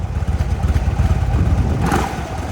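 Harley-Davidson Road King Police Edition motorcycle engine rumbling nearby with a steady, pulsing low throb that swells slightly, alone without talk.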